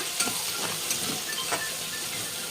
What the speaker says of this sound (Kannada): ಟೊಮೆಟೊ ಕೊತ್ತಂಬರಿ ಎಲ್ಲ ಎಣ್ಣೆದೊಳಗೆ ಫ್ರೈ ಆಗತ್ತವ್ರಿ